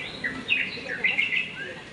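Small birds chirp and tweet in repeated short calls at a bird garden in Garut, moderately close and steady over a quiet background.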